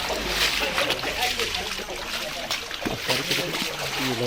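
Rainwater that has flooded into a poor family's house sloshes and trickles, with uneven splashes and dribbles close by, while someone talks over the moving water.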